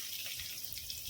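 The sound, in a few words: water poured into a pan of shrimp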